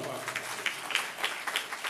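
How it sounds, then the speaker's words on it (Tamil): A church crowd at a children's confirmation claps for a little girl, a moderate, steady patter of applause heard at a distance and held for a couple of seconds. "கைத்தட்டிருங்க அந்த பாப்பா"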